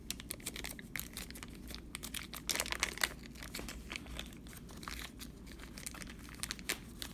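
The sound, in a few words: plastic bag of baseball card packs being handled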